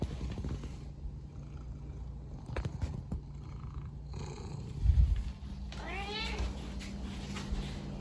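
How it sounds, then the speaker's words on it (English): A cat meows and yowls in short, drawn-out cries, with soft purring and light rustling between the calls, fairly close. "my cat thinks it's time for dinner and he will just nonstop just start crying and howling"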